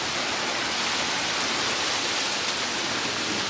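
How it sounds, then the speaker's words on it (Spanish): Steady, dense hiss of heavy rain pouring down, constant and close with no breaks. "Miren que nomás qué bonito está lloviendo."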